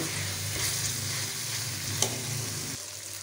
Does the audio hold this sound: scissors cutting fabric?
no